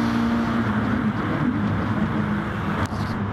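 A Peugeot race car in Gran Turismo Sport pulls out of the slipstream during a GTTCC touring car race, its engine a steady, loud broadband roar throughout, with a brief sharp transient near the end.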